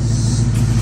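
A Mustang's engine rumbles loud and close as the car backs out, a deep steady low idle with slight revving texture over a brief moment.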